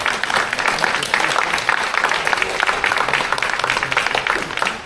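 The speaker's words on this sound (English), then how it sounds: "I want to give a final round of applause to our award recipients" A volunteer appreciation event crowd gives a final round of applause for award recipients, dense clapping from many hands that stays loud and steady throughout.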